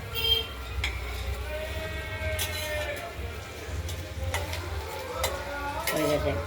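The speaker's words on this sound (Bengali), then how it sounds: "মাছগুলোকে হালকা ভেজে নিয়েছি আর পোস্ত বাটাটা দিয়ে দিলাম" Poppy seed paste goes into a pan of lightly fried prawns and is stirred, a soft ongoing sizzle with scraping strokes, under a low background hum and occasional voices.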